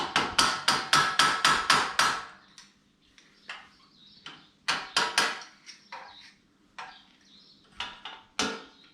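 Nearby hammering: a rapid run of about eight even blows, then scattered, irregular strikes with pauses between.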